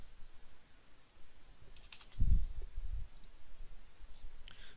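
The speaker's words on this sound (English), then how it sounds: "and just start typing" A few faint, scattered keystrokes tap on a computer keyboard in a quiet room, with a short cluster of clicks near the middle.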